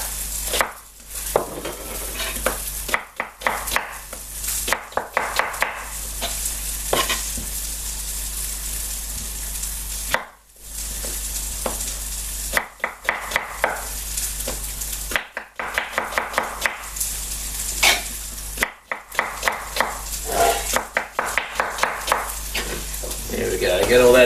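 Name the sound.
chopped onion sizzling in a pot for lamb shanks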